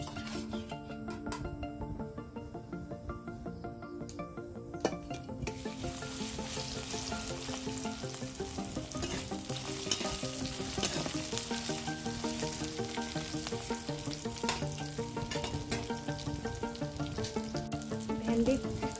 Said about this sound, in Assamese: এতিয়া মই ভেন্দিখিনি ইয়াত ফ্ৰাই কৰি ল'ম।